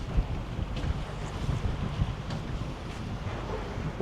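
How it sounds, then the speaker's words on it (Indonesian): Steady wind blows hard at sea ahead of rain, rumbling and buffeting the microphone, with a constant low roar and no other clear sounds. "Mau hujan, pantas angin bertiup."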